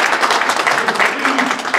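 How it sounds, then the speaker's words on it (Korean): Applause from the congregation at a 2020 New Year prayer meeting of a New York pastors' association, honoring elders; steady, dense clapping fills the short stretch at moderate loudness, with no voice over it. "우리 박수 한번 쳐주십시오."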